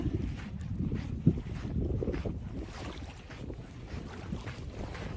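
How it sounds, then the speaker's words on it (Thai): Buffeting wind noise rumbles across the microphone at a beach, low and uneven, with one brief bump partway through; no voices. "มีเสียงลมรบกวน"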